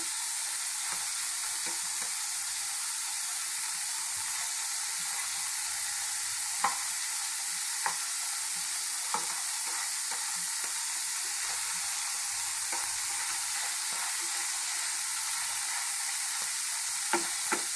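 Marinated chicken cooks in a pan with a faint, steady sizzle and hiss. Small occasional crackles pop over it, and no voices are heard.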